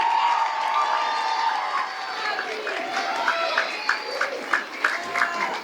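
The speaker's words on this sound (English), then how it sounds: "Another round of applause for our beginning band." Audience applauding a school beginning band at a fall preview concert, with clapping and scattered cheers fading into a sparse patter of claps, while voices carry over the top.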